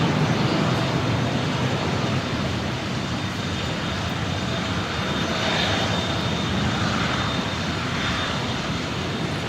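An airliner pushed back at Brisbane Airport begins its taxi, a steady, loud engine roar with a broad whine that holds throughout, unbroken and close.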